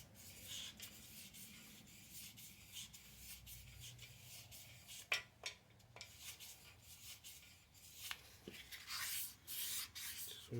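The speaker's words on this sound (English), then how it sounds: "I'm going to put a piece of 1000 grit paper around it" Hand-sanding the main bearing saddles of a Pontiac 400 engine block using 1000 grit paper wrapped around a brass strip, a soft close rubbing and scraping with irregular strokes and a few sharper scuffs, no talk.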